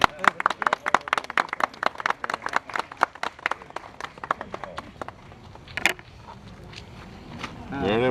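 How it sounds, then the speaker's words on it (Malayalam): A group at a ward meeting claps together, a burst of sharp overlapping handclaps that thins out and fades over several seconds, with some background noise and movement after. "കൈയടിക്കോ?"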